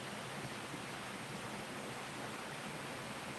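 White noise playing from a device at a reportedly haunted mill: a constant, even hiss filling the whole clip without change, fairly quiet and with no voices.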